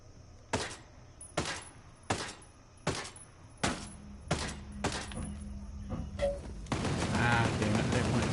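Gunfire in the video game Ghost Recon Breakpoint: about nine sharp single shots at a steady pace, each followed by a short ring, then a dense burst of rapid fire and noise at the end.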